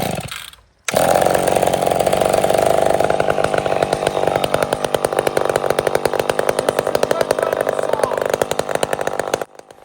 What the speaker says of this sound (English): Now choke it.